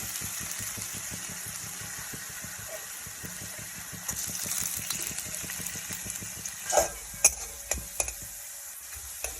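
Steady sizzling of carrots and potatoes frying in a pan, with occasional clinks of a utensil near the end.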